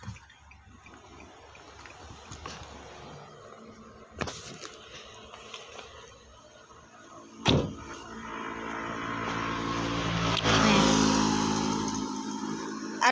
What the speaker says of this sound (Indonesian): Ada motor tapi nggak begitu rame ya teman-teman